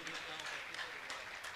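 Audience applause fills a Jain monk's Shanka Samadhan religious gathering, a steady dense clatter of many hands clapping at a moderate, somewhat distant level with no break.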